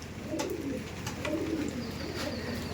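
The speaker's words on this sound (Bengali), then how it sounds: "পায়রা দেখুন এখানে ভিডিও করছে আর পায়রা বেরিয়ে গেছে" Andhra pigeons coo close by in low, rolling, repeated calls, with a soft murmur of background noise.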